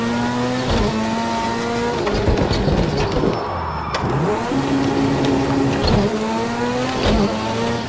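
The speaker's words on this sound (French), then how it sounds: "Il arrive très vite au rupteur en première, mais bon, on a besoin de ça pour reprendre l'accélération." A car is pushed hard on a slippery track bend, with its engine revving up repeatedly in first gear and bouncing off the rev limiter, close and loud, with tire noise and stuttering surges.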